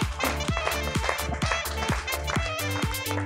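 Startup Weekend Aix-Marseille audience clapping after a pitch, a dense run of rhythmic claps heard fairly close, with a steady repeated beat mixed in beneath.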